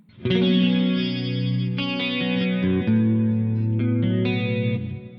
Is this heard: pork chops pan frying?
no